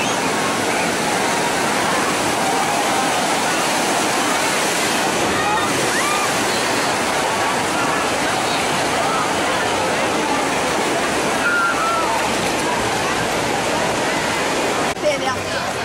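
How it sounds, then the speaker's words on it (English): Rushing water churns steadily in an outdoor wave pool at a water park, a continuous broadband wash of surf with no distinct individual breakers, sustained and fairly loud for the whole stretch. "Now the girls have found a wave pool that is more their speed."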